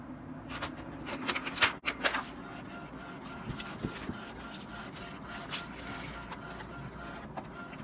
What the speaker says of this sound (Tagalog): Tapos, iprint na natin.